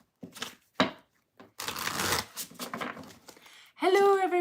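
Tarot cards are shuffled in short riffling bursts with brief pauses between, close and fairly soft, and a voice speaks briefly near the end.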